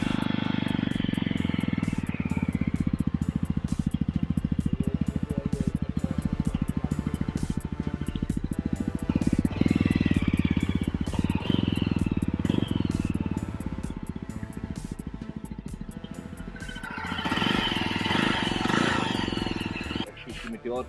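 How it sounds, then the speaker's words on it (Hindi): A Yezdi Roadster motorcycle engine starts and runs at a steady idle, a loud continuous low thumping throb that holds for about twenty seconds with a brief rise near the end, with a voice speaking over it. "तो चलिए इस बाइक को स्टार्ट करते हैं,"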